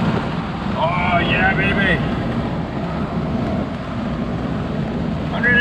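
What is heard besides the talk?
1985 Proton Saga 1.5S car accelerating in fifth gear to overtake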